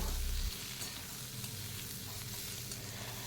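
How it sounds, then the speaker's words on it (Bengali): Pumpkin and cauliflower stalks fry in a pan for a stalk chachchari, giving a steady close sizzle with stirring scrapes and no talk. "একে একে আমি সবগুলো সবজি দিয়ে আমি সবজিগুলোকে খুব ভালো করে ভাজা করে নেব"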